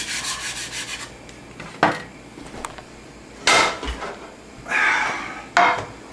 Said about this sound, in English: Scrape again to loosen it up.